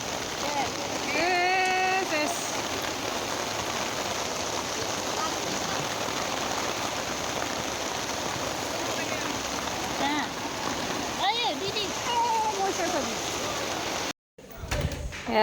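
Heavy rain pours steadily as a constant hiss on a tarpaulin sheltering the speaker at a market, with a voice speaking briefly over it before a sudden cut near the end.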